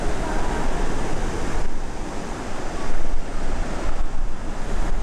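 Waves and wind roll in at a hotel beach pier in Kusadasi, Turkey, a constant broad rushing surf with gusts buffeting the microphone, loud and close, and no voices.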